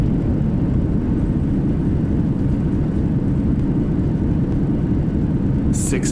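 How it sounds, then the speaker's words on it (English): Airliner thrust reversers roaring after landing at Fort Lauderdale in Flight Simulator, a loud steady broadband engine rush filling the clip, with a brief higher burst near the end. "Spoilers deployed. Reversers out."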